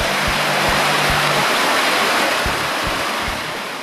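Rushing water of the Matutinao River pouring through a narrow canyon in Cebu, Philippines, a constant loud roar filling the whole span, with a few low thumps near the microphone.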